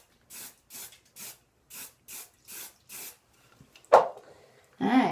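Hairspray from an aerosol can hisses in seven short, evenly spaced bursts onto pin curls, close and clear, followed by a couple of brief louder rustles.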